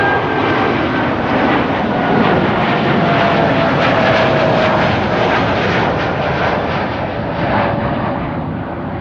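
A TUI passenger jet takes off at Amsterdam Schiphol Airport with a loud, close, continuous engine roar and pulsing rumble, easing slightly toward the end, without any talk.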